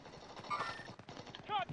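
Rapid video game gunfire sounds faint and fast beneath a player's quick, close speech during a tense firefight.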